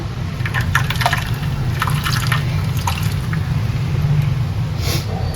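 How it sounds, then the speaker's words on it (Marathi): Water poured into a besan and curd mixture for khandvi, a steady liquid trickle and drip sound running close and continuous through the whole stretch, with no talking. "आपण आता दोन कप पाणी घातलेलं आहे"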